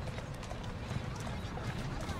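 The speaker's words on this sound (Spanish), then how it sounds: "mira cómo el caballo echa marcha para atrás" Horse hooves clopping in Assassin's Creed Syndicate, a steady stream of hoof falls mixed with game mechanisms and background noise, with people talking over it.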